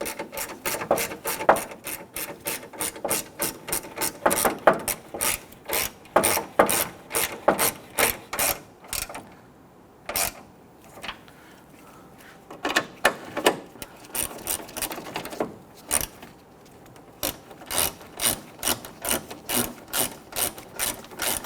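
A ratchet snugs the grille bolts down against plastic on a 2006-2010 Hummer H3, fast close pawl clicks in repeated bursts with short pauses between strokes, loud and near.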